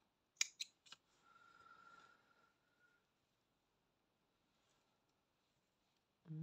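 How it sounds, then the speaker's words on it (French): Scissors snip through crochet yarn in a couple of sharp, close clicks, followed by a faint soft rustle and then a short silence. "Je coupe le fil."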